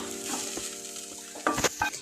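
Steady sizzle of soybean momos frying in a pan, with a few brief scraping stirs near the end and no talking.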